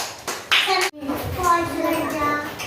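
Children in a classroom clap together in a short burst close by, with a voice and other speech mixed in around it.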